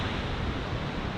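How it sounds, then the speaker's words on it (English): Ocean surf crashing against sea cliffs, a continuous dense roar heard loud and close with no speech over it. "essentially I want to shoot the crashing waves on the cliff"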